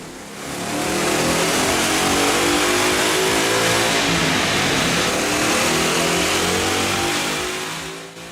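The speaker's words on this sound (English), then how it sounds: "Let's put the 1768 cold air induction system to the test on the dyno." A Mustang GT with a Coyote 5.0 V8 and a cold air intake revs hard on a dyno, a loud, steady engine roar climbing and holding for several seconds before easing off.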